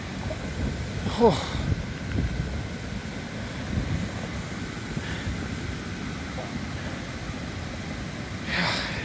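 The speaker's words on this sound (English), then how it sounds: "It's the sound of rocks tumbling down a creek." Rocks tumble down a flooded creek on an off-grid property, giving a continuous, distant, thunder-like rumble of rushing water with faint knocks; a person briefly exclaims once.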